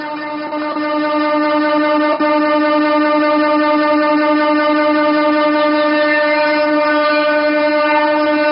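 A train horn blows in a long, steady, loud tone for the whole stretch as the Palakkad-Pollachi passenger service is flagged off from Palakkad railway station, with a faint background rumble beneath it.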